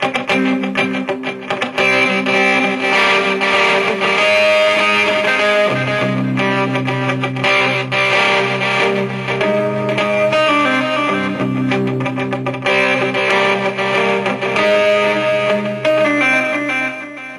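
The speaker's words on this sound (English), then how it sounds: "What you're hearing is a little bit of pick muffle in between there" Distorted electric guitar plays a steady riff with short, muted picked notes between ringing chords, loud and continuous throughout.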